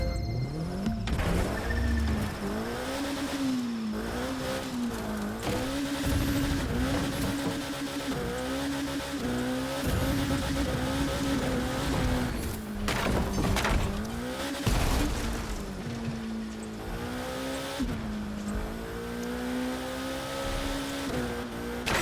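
Car racing along narrow mountain roads in The Crew 2 video game: a loud engine revving up and down through gear shifts, with repeated tire squeals and skids, continuous throughout, no talking.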